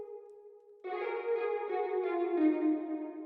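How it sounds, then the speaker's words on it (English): An electric guitar chord rings out after a brief held tone, thick with gritty amp distortion and sustained, loud and saturated with a slight echoing shimmer. "this just really blended in some more distortion, some more gritty texture."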